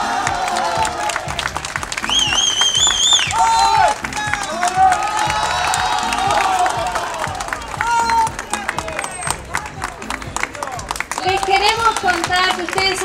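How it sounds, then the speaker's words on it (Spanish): Street crowd at an outdoor cultural performance of Zorba the Greek on a pedestrian mall claps and cheers in sustained, dense applause, with whistles and chatter mixed in and voices calling out over it. "Un aplauso."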